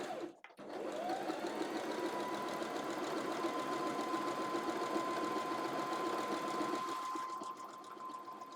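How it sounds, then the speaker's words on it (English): Sewing machine stitching the side seam of an off-shoulder tie-top, a steady continuous motor whir with rapid needle chatter running for several seconds close up, then slowing and stopping. "now I'm sewing my other side"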